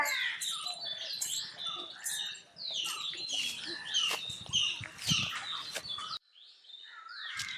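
Bulbul and myna birds calling outdoors, a busy run of overlapping chirps, whistles and chatter at moderate distance, with brief pauses and a short dip near the end.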